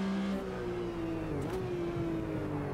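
A Porsche RSR race car in the Automobilista 2 racing game holds a steady, droning engine tone that dips briefly as it shifts and then carries on at a fairly even level.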